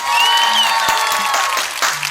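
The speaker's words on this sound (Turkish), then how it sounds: "Alkış." Applause for a child's sixth birthday, a steady wash of clapping with some cheering that carries through the whole stretch, close and fairly loud.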